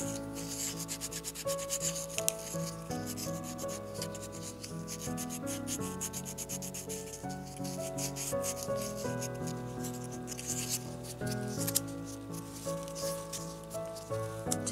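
The inside of a small miniature bowl rubbed with rolled 400-grit sandpaper, a continuous close scratchy rasp in quick circular strokes, with tuneful background music running underneath.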